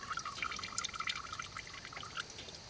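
Liquid deer attractant is poured quietly into a container of water, a faint steady trickle with small splashes and no talk.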